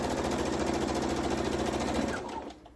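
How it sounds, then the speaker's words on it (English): A sewing machine stitches a quarter-inch seam down the side of a fabric pumpkin. It runs in a loud, steady, rapid whir close by and then slows and stops at the end. "it's gonna be a 1/4 inch seam that I sew right down the side"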